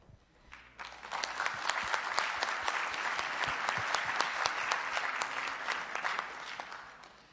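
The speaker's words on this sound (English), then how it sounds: "let's have another round of applause for the Director General of UNIDO" An audience at a UNIDO General Conference panel on Industry 4.0 applauds loudly and evenly for about six seconds, the clapping rising quickly and fading out at the end.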